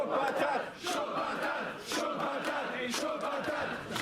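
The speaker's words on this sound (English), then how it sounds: "Fans once more cheering on MAO and Yoshihiko." A wrestling crowd at a BZW tag match cheers for MAO and Yoshihiko in loud, sustained roars with sharp bursts of shouting and clapping, and no one speaks over it.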